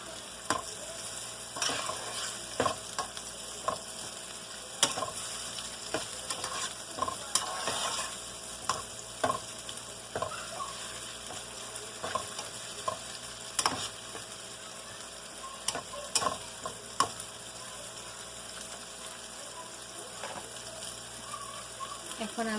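Ginger garlic paste sizzles steadily in a hot pan while a spoon scrapes and stirs in irregular knocks and clatters, moderately close with no talking.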